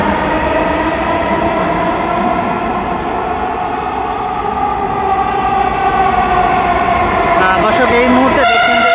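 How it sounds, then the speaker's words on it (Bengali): Dhaka metro train pulling out of Bijoy Sarani station toward Motijheel, a loud continuous electric hum and rumble with a rising whine, while someone narrates over it throughout. "এই মুহূর্তে বিজয় সরণি স্টেশন থেকে যে ট্রেনটি রয়েছেন সেটি কিন্তু মতিঝিলের উদ্দেশ্যে ছেড়ে গিয়েছে।"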